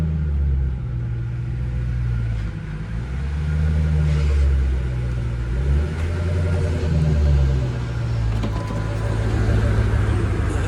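A 2003 Ford Mustang Mach 1 engine drives steadily, a deep low rumble close up with slight rises and falls in revs, continuous throughout with no talk.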